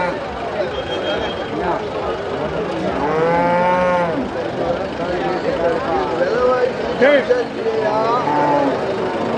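Cattle moo loudly several times, long drawn-out lowing calls over a busy background of voices and crowd noise at the Melapalayam cattle market.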